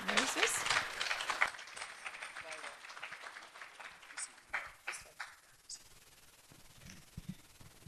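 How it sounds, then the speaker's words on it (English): At an international legal conference, an audience applauds an award recipient with a loud burst of many-handed clapping that thins and fades over a few seconds, with a few scattered claps and voices after. "A big round of applause for the first Muslim QC"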